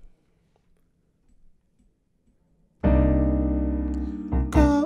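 After nearly three seconds of near silence, a piano comes in playing a song, entering with a full, resonant chord that rings and fades, then a brighter accented note near the end.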